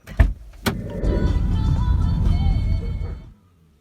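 A car starts moving after a couple of sharp knocks, its engine and road rumble holding steady up close for a few seconds before cutting off into silence.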